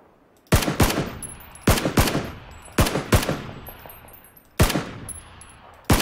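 Gunfire in the battle-royale video game PUBG, loud bursts of two or three quick shots repeating every second or so across several seconds, each with a short echoing tail and no talking over it.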